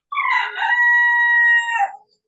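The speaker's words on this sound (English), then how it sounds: "rooster is crowing in the background there" A rooster crows once outdoors in the background, a single drawn-out call of about two seconds that rises, holds steady and trails off, clear and alone with no talk over it.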